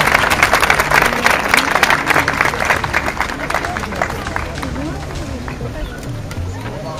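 A crowd applauds and cheers runners at a 5 km road race in Mulsanne, dense clapping loudest at first and thinning out, with an announcer and chatter over it.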